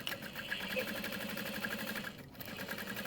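A sewing machine running steadily while stitching a quarter-inch seam on a handbag, a fast even mechanical whir with a rhythmic pulse, fairly quiet and close.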